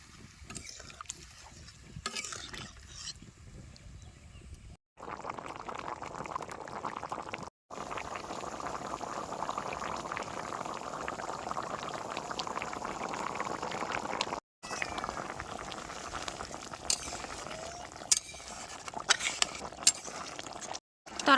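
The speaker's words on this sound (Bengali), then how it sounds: "এবারে পরিমাণ মতো জল দিয়ে দেবো" Water poured into a pot of simmering meat curry on a stove turned up to high heat: a steady, fairly loud bubbling and gushing wash that runs for most of the stretch, broken by a few brief silent gaps.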